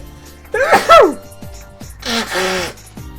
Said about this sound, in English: Why have I suddenly got really bad sneezing?